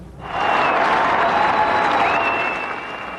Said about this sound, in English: The president got more cheers before he left Macedonia from a group of American soldiers